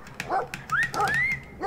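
A dog in the video game Brothers: A Tale of Two Sons gives a few quick yips and whiny barks, close and clear, in a short burst of about three calls.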